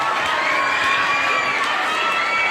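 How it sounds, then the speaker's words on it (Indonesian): Audience at a live talk event cheers and applauds loudly, a dense, steady crowd roar with shouting voices throughout, sustained and close. "Tepuk tangan lu dong, udah ngasih pertanyaan nih."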